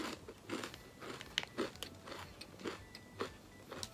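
Crisp crunching bites into chocolate-covered potato chips, a Hokkaido souvenir snack with bitter chocolate, several close, distinct crunches spaced through the moment with soft chewing between them.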